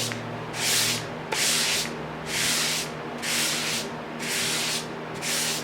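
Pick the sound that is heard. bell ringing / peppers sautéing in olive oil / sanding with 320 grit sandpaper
sanding with 320 grit sandpaper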